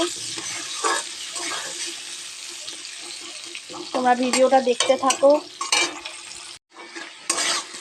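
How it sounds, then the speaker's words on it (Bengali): Food sizzles and crackles in a pan while it is stirred, with a burst of louder frying partway through; a person speaks briefly over it. "আলুটা ভালো করে ভাজা করে নেব"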